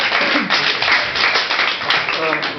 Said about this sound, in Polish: Frodo, wielkie brawa